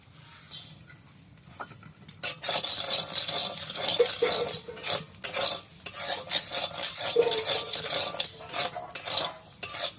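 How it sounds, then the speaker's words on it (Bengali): Dal frying in a hot wok while being stirred, a spatula scraping and clinking against the metal over a soft continuous sizzle, with irregular bursts of scraping that grow busier after the first couple of seconds. "কড়াই গরম হয়ে গেছে, আমি ডালটা দিয়ে দিচ্ছি"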